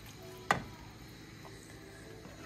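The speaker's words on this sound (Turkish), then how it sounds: "Bu şekilde kavuruyoruz." A soft, steady sizzle of onions and hot pepper frying in a pan, quiet and close, with a single sharp clink near the start.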